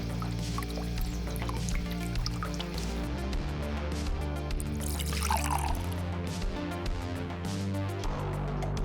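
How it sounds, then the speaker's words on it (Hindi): Water trickles and drips steadily through a homemade sand, grass and charcoal filter outdoors in the jungle, a continuous wet patter over a low steady background. "उसे आराम से डालें ताकि पानी फिल्टर हो सके।"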